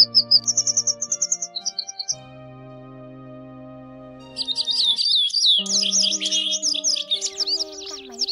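White and yellow wagtails sing clear, high chirping phrases: a rhythmic run of repeated notes first, then after a pause a busier, warbling stretch, loud and close over a low sustained tonal background.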